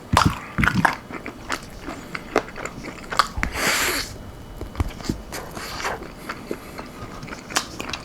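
Close, crisp crunching bites and chewing of almond-flour-coated chicken wings, with sharp irregular crackles repeating throughout and no talking.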